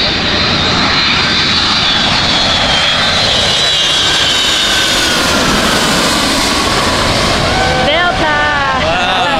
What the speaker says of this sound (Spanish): Estamos esperando por otro avión a que pase.